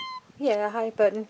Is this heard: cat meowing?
yes